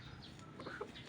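A white Kelso gamefowl rooster clucks and murmurs softly at close range, faint and brief, with no other sounds around it.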